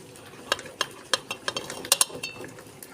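A spatula scrapes and clinks repeatedly against a pan as fried rice with egg is stir-fried, giving irregular metallic taps over a soft, steady sizzle, close and moderately quiet.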